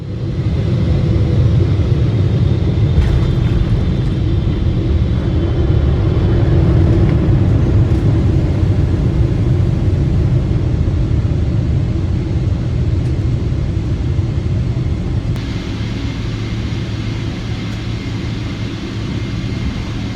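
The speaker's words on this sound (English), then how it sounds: "And just like that, we're landing into Paris CDG Airport." A Singapore Airlines airliner lands at Paris Charles de Gaulle, heard from inside the cabin as a loud, steady, continuous roar and rumble throughout, with no speech.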